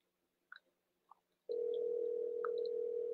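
A telephone ringback tone sounds while a call is placed, a single steady unbroken tone starting abruptly after a few faint clicks and holding clearly to the end.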